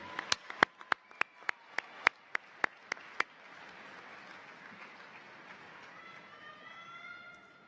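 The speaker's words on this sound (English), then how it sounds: "Let's give them a round of applause." About a dozen sharp, evenly spaced claps ring out in unison at a college commencement ceremony, then give way to a softer, sustained wash of scattered applause with some whistling tones.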